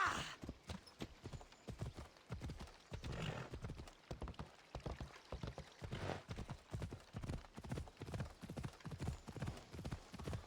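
Horse hooves galloping at full speed in Assassin's Creed Odyssey, a rapid rhythmic clip-clop of game hoofbeats repeating steadily throughout, with occasional neighing and faint background game ambience.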